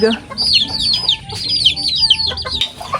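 Native chickens with their chicks call nearby, a busy overlapping string of clucks and high peeping chirps rising and falling in loud close bursts.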